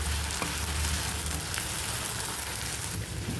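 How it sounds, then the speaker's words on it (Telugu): Masala paste for a mushroom curry fries in oil, a dense, even sizzle with a low bubbling undertone and occasional stirring scrapes, close and constant throughout. "మసాలా పేస్ట్ వేసుకున్నాక బాగా ఫ్రై చేసుకోవాలి."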